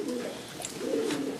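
A pigeon coos in a breeding loft in an attic, a soft, low, throaty burble rising and falling twice, close but faint.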